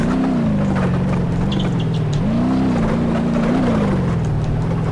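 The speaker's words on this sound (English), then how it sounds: "once it gets going fast, it's got a V8 engine" A V8 car engine in BeamNG Drive drones steadily throughout, its pitch rising and dipping with throttle changes as the car drives along, loud and close with no talk.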